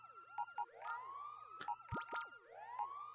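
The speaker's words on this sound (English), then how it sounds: "The alarm still goes off even in menus, yes." An alarm in the video game Pokemon Colosseum, heard in a menu, blares with repeated rising and falling siren-like electronic whoops, plus sharp beeps and sweeping zaps over a low steady hum.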